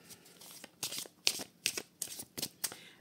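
Oracle cards being shuffled by hand in a series of quick riffling bursts, about seven bright crisp rustles with short pauses between them, close and fairly quiet with no talking.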